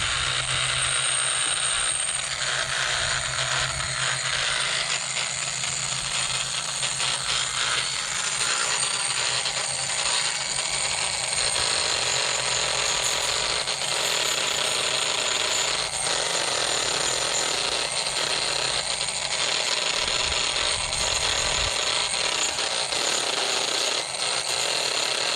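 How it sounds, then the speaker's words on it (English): A variable-speed grinder trims a hoof, giving a loud, continuous, harsh whirring and scraping drone with slight changes in pitch and no breaks for about 25 seconds, heard up close. "So the grinder has variable speeds right here, so it'll probably be a little loud"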